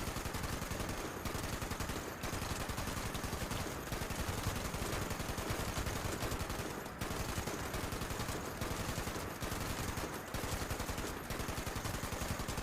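Sustained gunfire in a military roleplay video game: a continuous, rapid stream of loud automatic shots with brief gaps. It is steady and close, with no voices over it.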